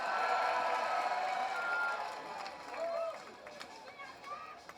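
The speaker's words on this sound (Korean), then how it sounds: "김경 시당 위원장님께 다시 한번 큰 박수와 함성을 부탁드립니다" A crowd at an Incheon rally protesting the Fukushima wastewater release claps and cheers, with shouted voices rising over a broad roar that swells, dips and flares again.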